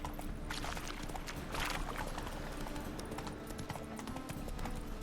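Hooves of the horse Roach clip-clop steadily in The Witcher 3 video game, a continuous trotting rhythm under a dense, busy game soundscape at moderate volume.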